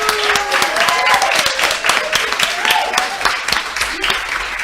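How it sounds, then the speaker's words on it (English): An audience at a live video game contest final applauds, with dense overlapping clapping that holds loud and steady throughout. "Let me get a round of applause for them."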